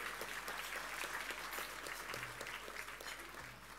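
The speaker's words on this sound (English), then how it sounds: "Give him a round of applause" A crowd applauds at a heritage awards ceremony, a continuous wash of clapping at moderate level that tapers slightly toward the end.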